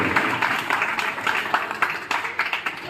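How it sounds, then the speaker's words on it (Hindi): An audience's rhythmic clapping welcomes a guest at a Shri Ganesh Mahotsav festival gathering, with a dense, lively patter of hands that stays steady throughout. "जोरदार तालियों से"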